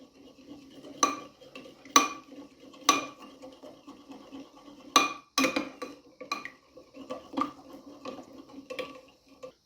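A spoon clinks and scrapes around a bowl while mixing a beet salad dressing with olive oil, bright metallic taps coming roughly once a second, then faster and more irregular toward the end.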